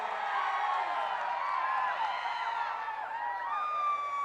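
A large crowd at an outdoor political rally cheers and whoops with rising voices, a dense roar of many people, fairly close and sustained throughout.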